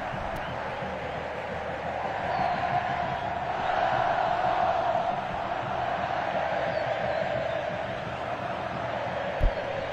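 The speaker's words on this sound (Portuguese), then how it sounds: "Torcedor do Avaí aplaude o seu goleiro, que salvou o time" Avaí football supporters in a stadium crowd during a Catarinense championship match against Figueirense, applauding and cheering their goalkeeper; a sustained distant crowd roar swelling and easing, with a sharp thump near the end.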